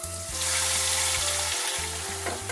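Tomato, mustard and chili masala paste fries in hot oil for a small fish curry, giving a steady close sizzle with a few stirring scrapes and no talk.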